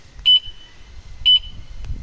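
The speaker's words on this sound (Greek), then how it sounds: "Κάθε μπιπ είναι η σκάλα ευαισθησία του συναγερμού." Two short, clear electronic beeps, about a second apart, come from a Jet-X 125 scooter alarm as its sensitivity setting is stepped, over faint low background rumble.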